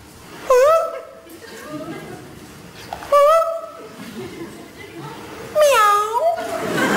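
A voice imitates a lion cub's meow, giving three drawn-out, wavering mewing calls spaced a few seconds apart, close and clear, with soft laughter and murmuring between them.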